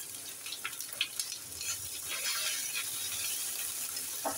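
Onion paste and garlic paste frying in hot oil in a pan, a steady close hiss with occasional soft pops and faint stirring scrapes, no voices.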